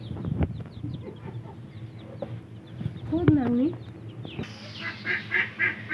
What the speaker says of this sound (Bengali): মুরগি মুরগিগুলো ঝুম ধরছে, এটা মরতে মরতে আর আটটা আছে